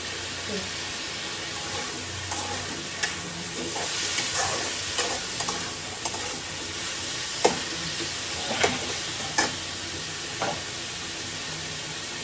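Vegetables being fried and stirred in a pan, a continuous sizzle broken by repeated sharp scraping clicks of the spatula at an uneven rhythm, close and moderately loud.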